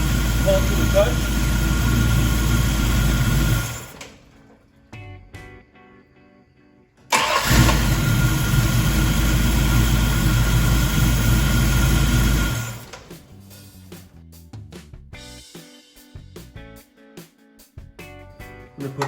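A 1968 Dodge Charger engine with a carburetor heat insulator installed starts and runs at a loud, close idle, cuts off, then restarts and idles again before shutting down, leaving quieter clanks afterward.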